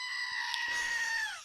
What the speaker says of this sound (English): my sister's family gave us this little plastic goat that screams